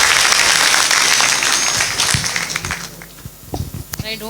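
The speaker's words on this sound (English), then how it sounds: "Give her a round of applause." Audience at a nursing college orientation program applauding, a dense burst of clapping that fades after a few seconds into scattered claps, with a voice speaking toward the end.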